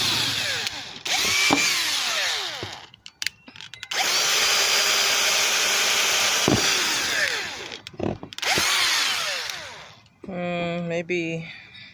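A power drill boring holes into garden soil, running in several long whirring bursts separated by short pauses, with a person speaking briefly near the end.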